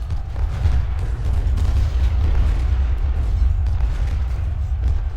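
Gunfire and artillery roar continuously in Ultimate General: Civil War, fighting on the Union side. Dense overlapping booms and rumbling blasts, loud and sustained, with no pauses and no voices.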